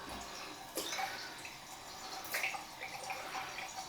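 Cold water drips and trickles into a small vessel while being prepared for a fly-tying face rub, with light splashes near 0.8 and 2.4 seconds over a faint, steady background.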